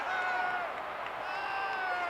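Arena crowd roaring and cheering at a 1984 WWF wrestling match, a sustained wash of voices with whoops rising and falling, fairly loud and steady.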